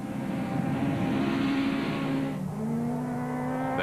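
Toyota Run-X rally car with a sticking throttle driven hard on a rally stage, its engine note loud and sustained, pitch falling then climbing again with a brief dip midway.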